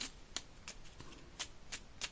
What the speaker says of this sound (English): I'm going to give my cards a little shuffle